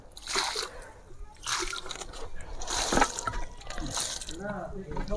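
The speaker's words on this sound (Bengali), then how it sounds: "খাবার দিয়েছি তার জন্য জল দিয়ে দিচ্ছি একদম ভরপুর করে" Water is poured generously into the pot of a freshly pruned and fed jasmine plant, with several close splashing and gurgling bursts that swell and fade, and a voice speaking over them.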